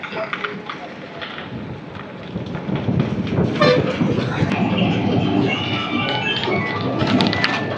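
A train rumbles past close by at Araku Valley railway station, platform 2, a loud steady roar with rattling and squealing metal, building slightly louder toward the end.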